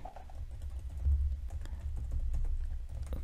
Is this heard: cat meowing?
no